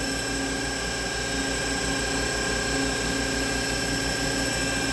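A Doosan Puma 3100LY lathe runs its live milling tool at 2000 RPM, a loud, steady mechanical whine with a constant high tone and low rumble, continuous and unbroken.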